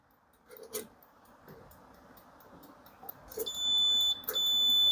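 Multimeter continuity beeper used while testing the selector switch of an electric oven with non-working heaters: a steady high-pitched tone starts partway through and holds loudly to the end, with a brief break, after a few soft handling clicks.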